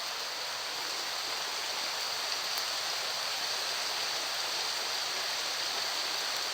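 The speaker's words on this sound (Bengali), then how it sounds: "খুব জোরে বৃষ্টি পড়ছে।" Hard rain pours outside in a smooth, continuous rushing hiss much like running water, steady and even in level, with no talking over it.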